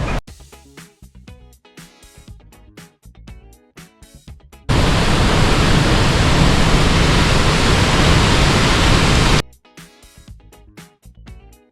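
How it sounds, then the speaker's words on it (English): A waterfall on the Mississippi River after rain, a loud steady roar of rushing water that starts abruptly, holds for several seconds, then cuts off, framed by quieter clattering sounds before and after. "ooh, waterfall."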